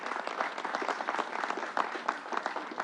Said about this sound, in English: Let's give Northwell a round of applause